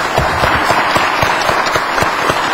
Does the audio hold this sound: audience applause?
yes